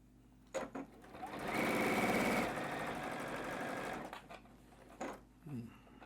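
A sewing machine runs a steady burst of stitching along quilt block seams for about three seconds, close and loud, with quieter handling sounds and brief clicks before and after.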